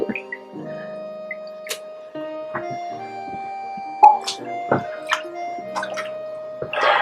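Water drips from homemade pasta noodles lifted out of an ice bath, sparse close plinks and drops at an irregular pace over a quiet room with a faint steady hum.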